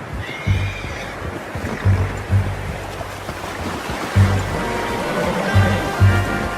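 A horse in Red Dead Redemption 2 neighs and snorts in short bursts over a low, rumbling ambient background, with the calls recurring every second or so.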